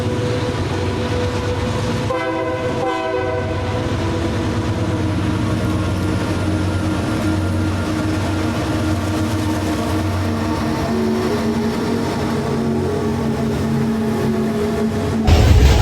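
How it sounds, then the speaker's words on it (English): A loud train rumbles past up close at a railfest, a continuous roar of wheels and cars with a brief horn-like tone early on. "While this train was passing,"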